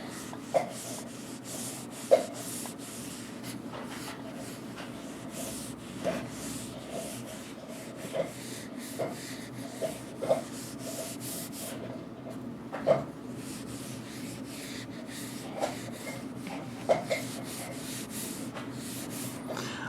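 A silicone-treated rag rubs over the worn, holster-scuffed slide of an HK pistol, making a soft, steady scrubbing hiss with a few sharper clicks and taps scattered through. It is close and quiet, with no talking.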